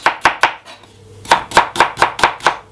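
Knife slicing chestnut mushrooms on a cutting board, three quick cuts, a short pause, then six evenly spaced crisp chops close up, with no talk.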